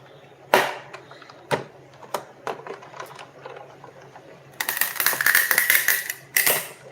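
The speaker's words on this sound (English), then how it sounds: "So I'm going to go ahead and die cut this acetate." A die-cutting machine running a sheet of acetate through, several sharp clacks and cranks spaced apart, then a loud harsh grinding squeal in two bursts close by.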